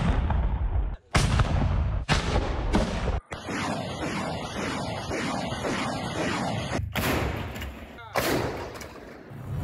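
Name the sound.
mortar and artillery fire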